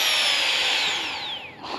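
A birdbath blower whirs with a high motor whine that drops in pitch as it winds down, close and fairly loud.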